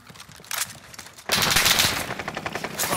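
Heavy automatic gunfire in a video game, bursts of rapid shots starting faintly then erupting into a loud, sustained close-range fusillade for the rest of the clip, with no talk.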